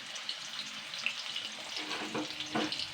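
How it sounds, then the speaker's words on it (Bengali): Diced potatoes with a bay leaf fry in hot oil, giving a steady close sizzle with a few scraping stirs near the end and no talk. "এই যে ডুমো করে কেটে রাখা আলুগুলো দিয়ে দিচ্ছি।"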